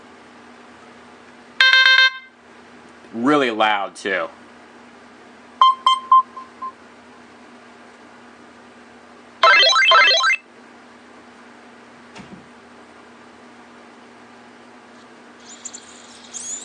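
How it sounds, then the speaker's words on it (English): Several different electronic alarm-clock tones from a Sony Dash internet viewer play one after another, chiming beeps and warbling trills separated by quiet gaps, over a steady low hum. "here's an example of the alarm system, by the way, and you have all these different alarm tones."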